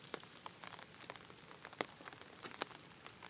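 Rain falling steadily on a surface during a rainy-season fishing outing, a dense patter of drops with scattered sharper taps and splashes, fairly quiet and close, with no voices.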